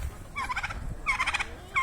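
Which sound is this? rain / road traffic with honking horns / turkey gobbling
turkey gobbling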